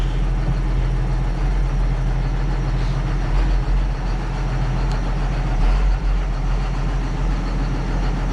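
A John Deere 6820 tractor engine idles with a steady, deep low rumble that holds constant throughout, loud and close, with no voices.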